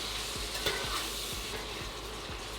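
Onions tossed into a hot pot for venison chili give a steady, close sizzling hiss with a few stirring scrapes, and no one talks.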